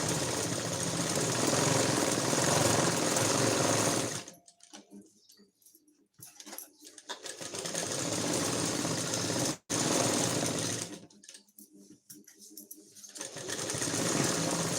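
Electric sewing machine stitching along a blouse edge, running in loud steady bursts of rapid mechanical whirring, stopping twice for quiet pauses before starting again.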